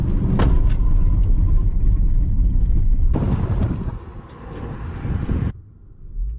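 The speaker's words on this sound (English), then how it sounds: "let's see now how it brakes at 80." A Mercedes EQS 580 electric car braking hard from 80, with loud broadband road and wind roar that swells mid-clip and then drops off sharply as the car slows, with no voices.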